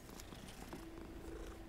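A cat purrs softly in the Hogwarts Legacy video game, a faint low steady rumble lasting a couple of seconds with no talking.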